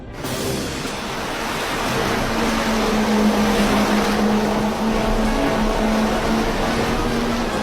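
A boat's engine drones steadily under loud rushing water and wind noise, a continuous low hum running throughout.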